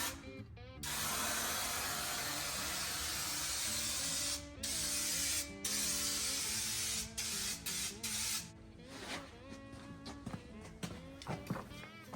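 A Rust-Oleum spray paint can sprays in loud, close hissing bursts, a long continuous spray followed by several shorter spurts and clicks, during restoration work on a 1972 Chevy dump truck.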